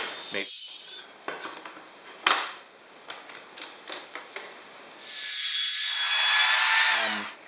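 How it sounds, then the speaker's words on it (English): A wood router fitted with a 1/2 inch bit cuts into wood for a ski rack, with short rasping bursts and scrapes and then a sustained whining cut near the end. "So I'm just going to go back in with the router and clean this up."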